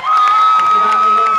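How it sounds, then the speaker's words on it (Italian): Concert crowd in Colle Sannita cheering and clapping, a loud dense roar with whoops and a steady sustained tone running through it. "quindi l'applauso più forte di tutti."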